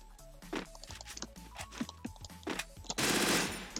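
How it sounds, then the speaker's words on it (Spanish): Gunfire in the mobile shooter Free Fire played on an emulator: rapid bursts of automatic shots with scattered single cracks, ending in a loud sustained blast, heard over game background sounds with no talking. "Ahí pueden ver que los tiros van."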